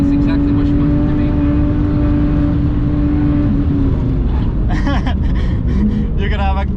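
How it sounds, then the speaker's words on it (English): A BMW 1M Coupe's exhaust drones loudly and steadily from inside the car while driving on the Nürburgring, a continuous low engine tone with a slight rise in pitch, and people talk over it inside the cabin. "And the sound with this exhaust is just the best."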